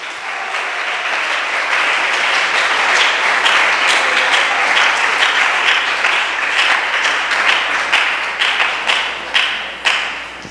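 A church congregation at a Spanish-language service bursts into sustained loud applause that fills the room, then thins into scattered, separate claps near the end.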